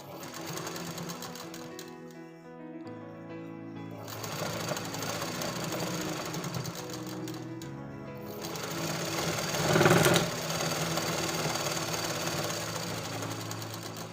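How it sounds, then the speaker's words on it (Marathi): A sewing machine runs steadily while stitching a lined blouse, its motor hum and rapid needle chatter continuous, with brief pauses and restarts, close and fairly loud. "आता आपण इथे टीप मारून घ्यायची आहे"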